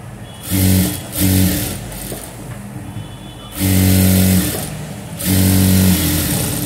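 Sewing machine stitching fabric in short bursts, two brief runs then two longer sustained runs, loud and close with a steady mechanical whir.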